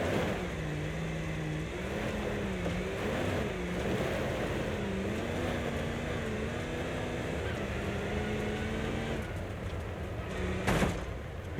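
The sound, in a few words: large vehicle engine squeezing through on a hill climb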